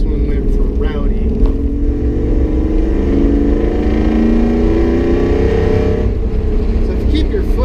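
A restored and modified Ford Bronco truck runs with a rowdy tone through a Borla stainless steel exhaust, its steady loud engine drone rising and falling slightly throughout, with some talking over it.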